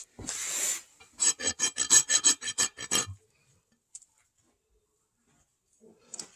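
Rasp filing a horse's hoof: a burst of harsh scraping followed by a quick run of about nine short rhythmic rasping strokes, close and crisp, then near silence with a faint rub at the end.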